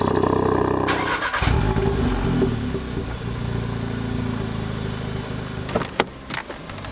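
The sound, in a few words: tuned hot hatch engine starting and revving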